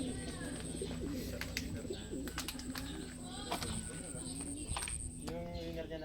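Pigeons coo repeatedly in soft, rhythmic calls over a steady background hum, with occasional chirps and a voice talking faintly nearby.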